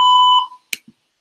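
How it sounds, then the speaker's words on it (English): An automated phone call's voicemail beep, a single steady electronic tone lasting under half a second, followed by a couple of faint short clicks and then silence. "Once I hear the beep, I'll drop the voicemail."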